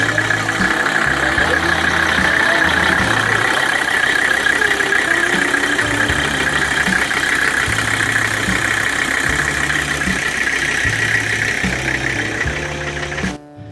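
A 1985 Mercedes-Benz 300D turbo diesel engine idles close by, a loud steady clattering rumble with a faint whistle on top that runs evenly before it cuts off at the end.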